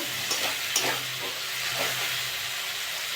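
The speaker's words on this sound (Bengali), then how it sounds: "মশলাটা কষে নেবো আমি একটু জল দিয়ে দেবো" Spice masala for aloo dum frying in oil, a steady broadband sizzle and hiss with a few sharper spits and scrapes of stirring, close and continuous without any talk.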